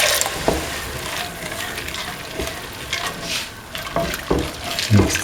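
Coconut milk being stirred into a cooking kidney bean and green pea mixture, with soft scraping and liquid swishing over a steady sizzling background, close and moderately loud, with irregular knocks of the spoon.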